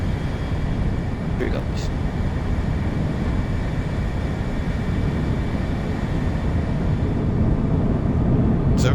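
F-35 jet engine roars in flight in a video game, a loud, dense, steady low rumble filling the whole stretch, with someone talking briefly over it.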